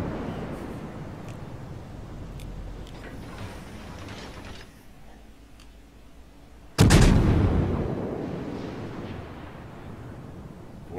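Naval ship gunfire in World of Warships during a Nuremberg cruiser match: a sudden loud boom cuts in midway over a steady rumbling battle ambience, then decays slowly, with no voice over it.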